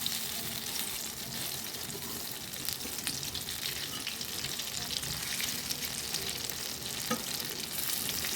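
Taro (maan kochu) fritters frying in hot oil give a dense, continuous sizzle with a faint watery crackle, steady and close throughout with no voices.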